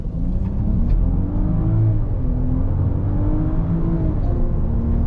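Range Rover Autobiography accelerating hard from standstill toward 100 km/h with the differential locked, a steady heard-from-inside engine rumble whose pitch climbs and dips through gear changes.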